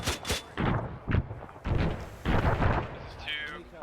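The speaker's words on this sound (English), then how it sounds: "All charges detonated" Explosive charges go off in Arma 3, a rapid series of loud, close booms and blasts with short gaps between them, ending in a fading rumble.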